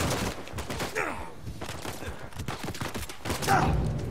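Bursts of gunfire in the video game Uncharted 4, sharp repeated shots and short volleys scattered across the scene, mixed with a man's muttered speech.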